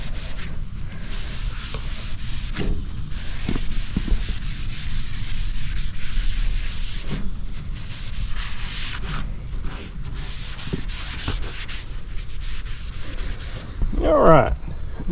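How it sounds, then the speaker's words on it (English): Wet sanding of car paint sprayed at home with Rust-oleum Maui Blue, a steady rhythmic rubbing and scrubbing that runs continuously, fairly close, with brief louder strokes near the end. "But we're gonna wet sand it anyway, so it don't matter."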